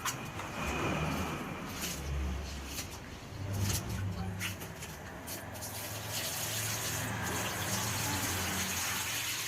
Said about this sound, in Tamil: நம்ம போட்டுட்டு நல்லா தண்ணி ஊற்றி ஃபஸ்ட்டு 2-3 தாட்டி நல்லா கழுவிடுவோம்.